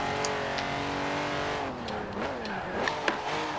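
A car engine in Forza Horizon 4 revs hard and climbs through gears, with short tire squeals and shifting pitch as the game car drifts, loud and close with no talk.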